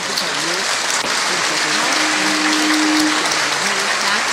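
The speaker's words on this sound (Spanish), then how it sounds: "La gente se para, aplaude, felices de recibir a su nuevo pastor." Cathedral congregation applauding a newly installed bishop, dense sustained clapping from a large crowd filling the space, with a voice speaking over it.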